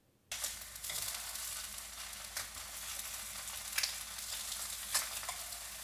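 Slices of Spam fry in a pan with a steady, dense sizzle, close and even throughout, broken by a few soft clicks and scrapes as the pieces are turned. No one speaks.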